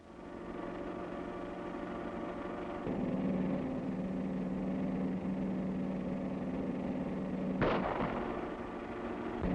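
A gunshot cracks out once during a shootout in a 1936 film, sounding over a continuous rumbling engine drone from a moving vehicle.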